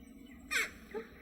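A jackdaw gives two short, harsh calls, the first louder and the second quicker, standing out clearly against a quiet background.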